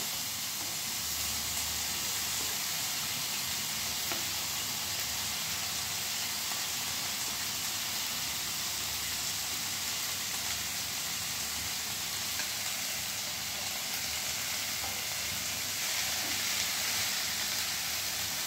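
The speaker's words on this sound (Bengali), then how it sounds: "এবার আমি কেটে রাখা গাজর, ফুলকপি আর বিনস এগুলো প্রথমে কড়াইতে দিয়ে দেব" Cut carrots, cauliflower and beans frying in a wok for a winter dinner recipe, a continuous even sizzle and hiss that stays steady and moderately quiet throughout, with no talk.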